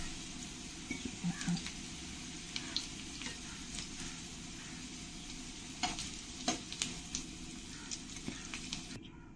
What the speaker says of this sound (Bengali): এবার আমি আলুগুলো ভালো করে একটু লাল লাল করে ভেজে নেব।